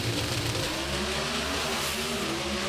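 Drag racing cars at the Mile-High Nationals qualifying blast down the track, a loud, continuous engine roar that holds steady and close for the whole stretch.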